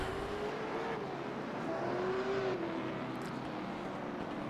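Short-track race cars, the pole-sitting Little Caesars number 43 among them, roll off pit road at Myrtle Beach for parade laps, a continuous engine drone that rises and dips as cars pass at a moderate distance.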